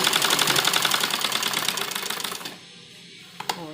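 An electric sewing machine stitching a dupatta fabric being made into a kurti runs in a fast, steady mechanical rattle, then stops abruptly, leaving near-silence broken by a brief click and rustle.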